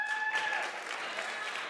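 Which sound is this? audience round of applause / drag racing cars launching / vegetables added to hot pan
audience round of applause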